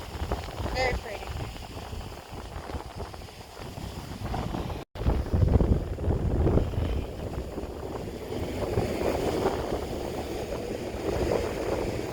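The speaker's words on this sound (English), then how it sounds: "It's a little windy out here too" Steady wind buffeting the microphone outdoors on a beach at sunset, with a low rumble and soft surf-like wash throughout, and a voice speaking over it.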